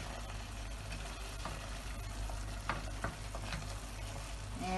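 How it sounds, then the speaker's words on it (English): Soya chunks sauté in a curry gravy and are stirred in the pan, giving a steady bubbling sizzle with scattered scraping taps of the spoon, close and continuous, with no talking. "Now I'm going to add the soya chunks to the gravy, and I stir it,"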